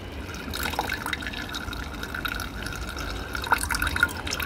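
Liquid poured slowly from a gold recovery container while recovering gold from circuit boards without acid, a soft steady trickle with scattered drips, fairly faint and close, with no talking.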